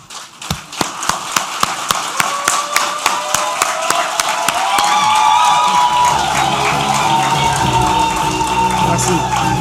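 Sharp, evenly spaced claps build into a dense, sustained round of crowd applause with cheering voices mixed in, at a graduation ceremony.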